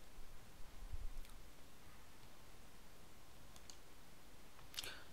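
Computer mouse clicks while editing in OpenShot video editor: a few faint, sharp clicks spaced seconds apart over a steady low hiss.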